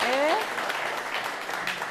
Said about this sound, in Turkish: Cemalettin Ermiş Alkışlarını alıyoruz.